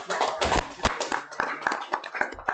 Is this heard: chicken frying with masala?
no